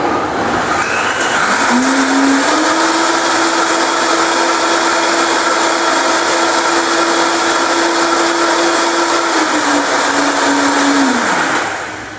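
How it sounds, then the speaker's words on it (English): A Vitamix blender runs through a smoothie with superfoods for about ten seconds, a loud steady motor whine that ramps up and holds at speed before winding down, with no talking. "I will always say with the Vitamix that you don't actually want to blend for too long"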